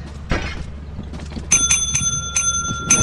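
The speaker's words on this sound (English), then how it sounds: "What did I say about ringing that doorbell?" A doorbell in the video game Lethal Company rings as a quick series of bright, metallic dings in an irregular rhythm, loud and close, over faint background noise and a thump, with no talking.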